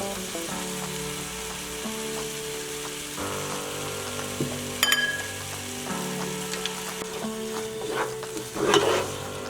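Biryani masala and vegetables stirred in a pot for boneless chicken dum biryani, soft sizzling under repeated scraping strokes of a spoon, with a couple of sharper clinks near the end; no voices.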